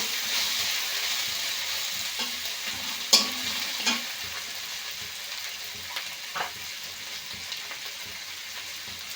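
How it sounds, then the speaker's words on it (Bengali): Egg patty filling sizzles in a frying pan with ginger paste while a utensil stirs it, giving a steady hiss broken by a few sharp scraping clacks. "দিয়ে আবার বেশ একটু ভালো করে এইভাবে একটু নেড়ে নেব"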